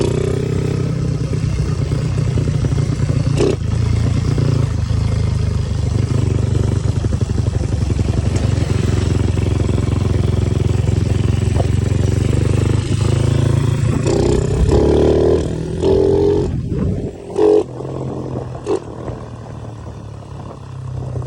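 A motorcycle engine with a freshly re-jetted, tuned carburetor runs at a sustained high rev for most of the stretch, then drops off near the end, followed by a few brief bangs and a lower, uneven engine tone.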